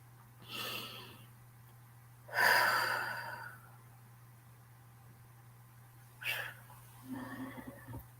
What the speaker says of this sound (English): And we breathe.